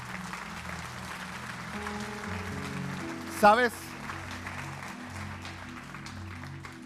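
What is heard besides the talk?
church congregation applauding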